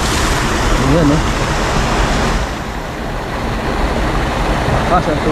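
Strong river current rushes in a steady broadband roar at a fishing spot, loud and continuous, with a voice speaking briefly over it.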